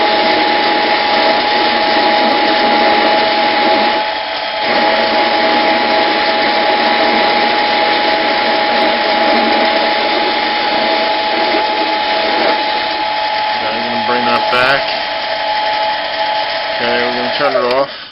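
A Harbor Freight 7x10 mini metal lathe runs with a steady high motor whine and cutting hum while reducing a workpiece's diameter, loud and continuous, with someone talking over it.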